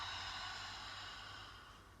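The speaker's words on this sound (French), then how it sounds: "expire par la bouche" A long, steady exhale through the mouth during a children's yoga breathing exercise, a broad airy whoosh that fades gradually over about two seconds, heard alone and fairly faint.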